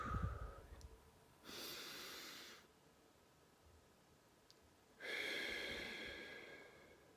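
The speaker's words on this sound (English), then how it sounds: "And taking a deep breath." Two long, soft breaths drawn in and let out slowly, each lasting over a second, close and quiet with no talking.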